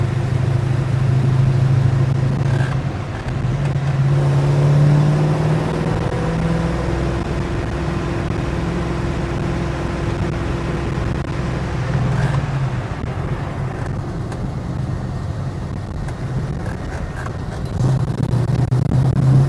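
A 1969 Chevy Nova with 4.11 gears and a six-speed transmission cruises at 50 mph in sixth gear, about 1,000 RPM, giving a steady low engine drone with road and wind noise that holds throughout.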